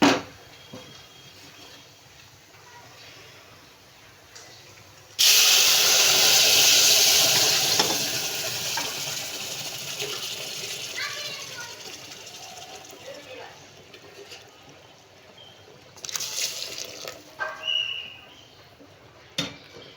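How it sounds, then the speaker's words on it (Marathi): Boiled hot water is poured into a cooking pot in a home kitchen, a sudden loud rushing splash that starts partway through and slowly tapers off, followed by quieter clatter. "पाणी उकळलेलं पाहिजे, गार पाणी नाही घालायचं."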